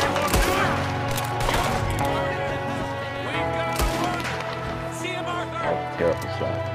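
Gunfire in the Western video game Red Dead Redemption 2, with several sharp shots standing out against a steady game soundscape while characters talk over it.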